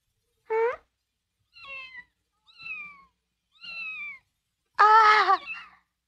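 A cat gives five separate meows spaced about a second apart, the first short, the middle three thin and high, the last louder and longer, all clear and close against silence.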